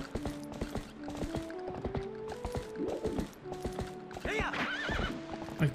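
Steady rhythmic hoofbeats clatter along as a horse gallops, then a shrill, quavering neigh rises near the end, with game sound effects underneath, in The Legend of Zelda: Twilight Princess HD.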